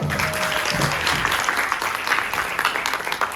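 An audience at a cultural concert applauds a band after its performance, a continuous burst of crowd clapping at moderate distance with a few voices blended in, holding steady throughout.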